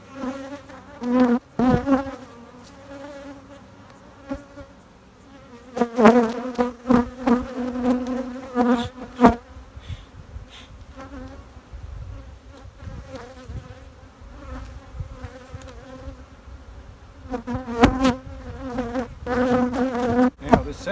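Honey bees buzz steadily around an open beehive during a backyard comb-honey inspection, a close droning hum that swells and fades in waves with occasional louder passes near the microphone.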